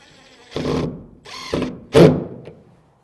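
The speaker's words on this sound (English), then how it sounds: "so I'll add the rest of my screws" A power drill drives screws into wooden French doors for a horse barn, three short whirring bursts close by, separated by brief pauses, the last one loudest.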